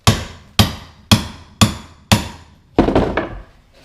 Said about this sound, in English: I think it's a mason chisel or something like that. But we got to get through this tile